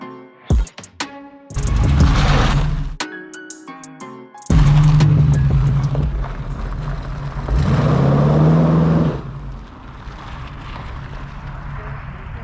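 A Chevrolet Camaro Z28 V8 muscle car drives close by, its engine loud and rumbling as the revs surge, dip and surge again, with a few sharp clicks at the start and a steadier drone toward the end.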